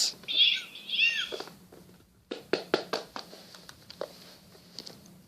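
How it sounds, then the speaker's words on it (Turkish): A small plush cat toy gives two electronic meows, followed by a run of soft taps and clicks as the toy is handled. "Ses çıkaran kedi miniş."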